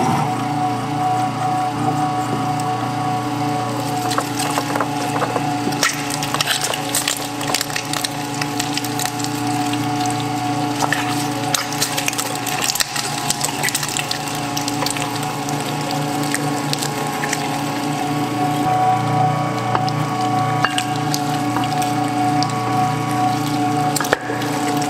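An old Hobart meat grinder with a 10mm plate coarse-grinds venison, a continuous close mechanical churn with steady motor hum and clattering, grinding texture throughout.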